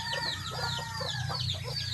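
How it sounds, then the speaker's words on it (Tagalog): Several chickens clucking continuously nearby, with overlapping calls over a steady low hum. "Nandiyan yung mga manok ko."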